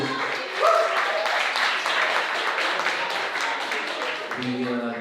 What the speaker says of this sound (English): Let's give Shakura one more round of applause, please.